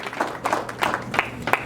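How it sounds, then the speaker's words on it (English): An audience at a Black History Month presentation claps, with scattered, uneven hand claps rising and falling at moderate volume over a couple of seconds. "Yes, let's clap it up."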